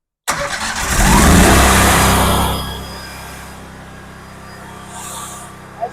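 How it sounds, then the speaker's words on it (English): One 38 HP gas engine of a dual-engine 1850 Van Jet Kit 5000 PSI pressure washer cranks and catches with a loud burst, then drops to a steady, lower idle. "So I'm going to start this with one engine."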